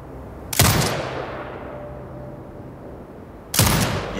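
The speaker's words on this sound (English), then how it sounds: "Exit binocular mode and command the turret to fire." Two heavy bursts of turret fire from Sniper Ghost Warrior Contracts 2, a few seconds apart, each loud and booming with a broad crack that trails off, over a quiet desert ambience.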